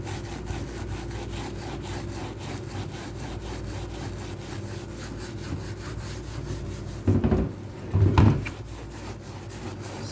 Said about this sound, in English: Start scrubbing after 10 minutes.